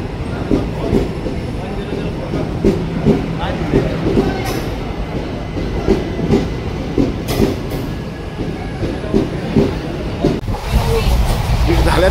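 The Tutari Express rolls along the rails on a return trip from Malvan to Mumbai, heard from inside a coach. A steady, close rumble carries rhythmic clicks and clacks, with faint voices underneath.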